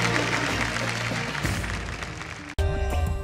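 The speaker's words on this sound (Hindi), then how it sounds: "एक बार जोरदार तालियां हो जाए गाइस." Studio audience at a televised dance talent show breaks into loud, sustained applause that fills the room, then cuts abruptly to a music sting.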